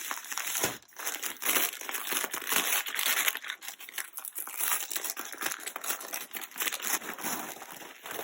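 Rib knit fabric wrapped in paper is unpacked with continuous loud crinkling and crumpling, the paper rustling and crushing close by for several seconds without talk.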